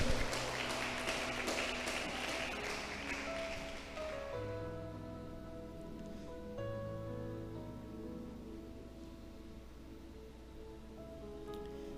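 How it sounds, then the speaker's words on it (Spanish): A church congregation applauding during a Spanish-language service, with dense clapping in the first four seconds that fades out as sustained musical tones and a low murmur take over. "Dale un fuerte aplauso al Señor."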